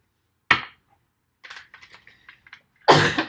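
A sharp single cough, then a few soft, scattered sounds, and a second louder cough close to the microphone at the end.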